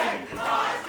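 A wrestling video game crowd cheers in a dense, sustained roar, loud and continuous throughout, with no commentary over it.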